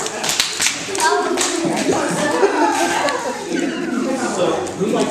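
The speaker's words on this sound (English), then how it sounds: "Give him a round of applause." A small group of people clap for someone while voices cheer, whoop and laugh over the sparse, uneven clapping.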